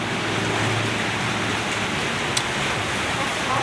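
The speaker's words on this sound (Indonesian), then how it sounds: "karena cuaca di Samarinda lagi Hujan." Light drizzling rain in Samarinda makes a steady, dense hiss of fine drops with no pauses, fairly loud and continuous throughout.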